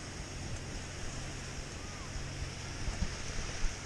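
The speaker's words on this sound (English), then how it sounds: "We got some waves today, bigger than I've seen before." Ocean surf at a beach on a day of bigger waves than usual, a steady broad rushing roar with slight swells and some wind noise.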